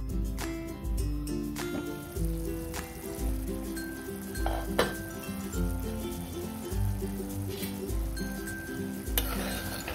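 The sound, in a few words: green pea curry simmering in a pan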